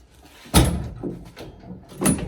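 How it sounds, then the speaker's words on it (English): A Toyota Corolla AE86 door opens and shuts with two solid thuds about a second and a half apart, close by, with no talking. "open the door and close it."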